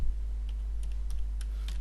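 A few soft keystrokes on a computer keyboard while a Linux command is typed, faint and sparse clicks spaced irregularly against a steady low background hum.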